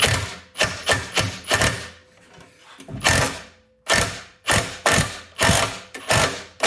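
Ratchet wrench clicking in repeated bursts as force goes onto a 1/2-inch screw extractor on lawn equipment, about nine loud, close strokes with short pauses between, no talking.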